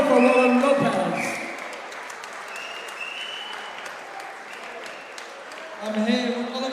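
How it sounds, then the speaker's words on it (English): Applause from a crowd at a fight event, loud at first, easing to a steady patter, then swelling again near the end. "Ladies and gentlemen, please big round of applause for Roland Lopez."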